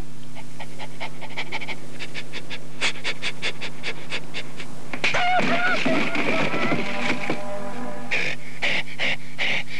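A dog pants in fast, steady rhythmic bursts, close and clear over a low background hum, with a brief stretch of whiny, strained vocal sounds before the panting resumes.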